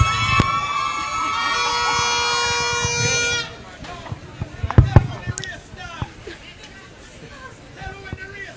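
Spectators cheer and shout in the stands at the Camperdown Classic athletics meet, a broad sustained crowd roar for the first few seconds that drops to scattered calls, claps and chatter.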